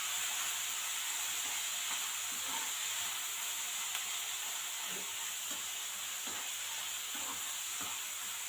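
Coriander leaves frying in a pan for a green chili tomato chutney, a steady bright sizzle and hiss with occasional soft stirring scrapes, continuous and close.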